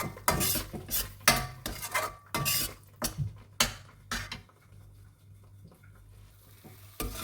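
Mint and coriander thuvayal is stirred in a pan, with a run of sharp, rhythmic scraping strokes and a light sizzle up close before the stirring turns quieter and sparser.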